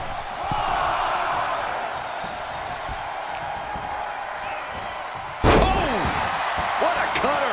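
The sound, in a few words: wrestler hit by a cutter move in WWE 2K24 video game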